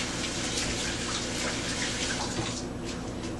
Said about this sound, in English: I'm gonna go wash my buttered hand real quick